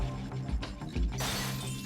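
An object smashes in the platform game Rayman Legends, giving a short bright shattering crash near the end of the clip after some softer thumps and game sounds, with no talking.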